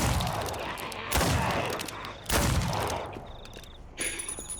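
Gunfire in the zombie shooter game Contagion, played on a custom campaign: heavy bursts of shots and booming impacts in rapid clusters, loud and close, with brief lulls between volleys.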